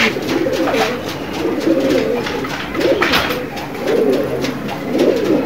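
Pigeons coo in soft repeated rolling calls, several close throaty phrases coming in slow waves.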